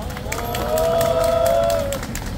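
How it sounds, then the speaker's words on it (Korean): Crowd applauding at a press conference denouncing LG U+, scattered claps under a murmur of voices and a sustained tonal hum across the middle of the clip. "모두 큰 박수 부탁드립니다."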